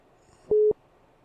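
A mobile phone sounds a single short electronic tone for an incoming call, with do-not-disturb left off. The brief beep is clear and stands alone against a quiet room, with no talking.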